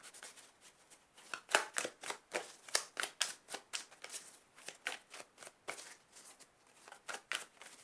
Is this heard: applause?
no